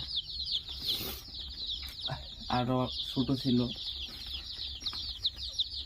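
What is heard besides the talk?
layer chicken chicks clucking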